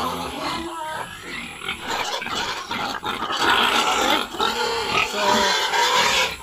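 Pigs grunting and squealing at close range before being fed on a farm, a dense, continuous chorus of snorts and oinks lasting throughout, with a brief spoken word near the start.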